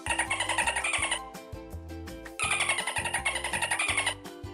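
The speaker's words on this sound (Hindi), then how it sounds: "ये तो कोई मछली है," Dolphin sounds served up in a sound guessing game, a dense, rapid chatter of squeaky whistles and clicks arriving in two loud bursts separated by a brief lull.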